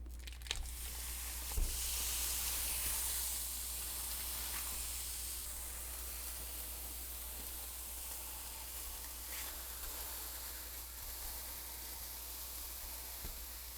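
Ground beef sizzling and frying in a pan, a steady hiss of hot fat that runs evenly throughout, with occasional faint stirring scrapes and no talking.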